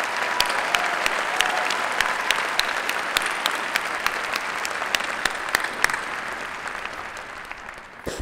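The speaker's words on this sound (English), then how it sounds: "Please join me once again in applauding the achievement of these amazing doctoral candidates." A large audience at a university winter commencement ceremony applauds doctoral candidates, a dense, steady wash of clapping with a few louder claps poking through that fades slightly toward the end.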